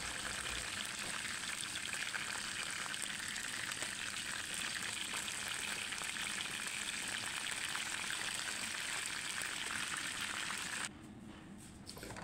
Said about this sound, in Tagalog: manggigisa tayo ng sibuyas at bawang guys